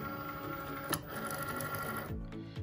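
A Cricut cutting machine loads its mat with a whirring motorized hum and small mechanical clicks, a short steady mechanism sound close by, ending in a couple of thumping steps as the mat settles.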